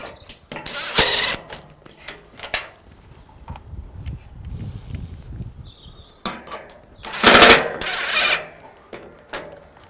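A ratchet tightens bolts on a wooden pergola corner, with several short bursts of quick clicking and metallic rattles separated by quieter handling noise, close and fairly loud.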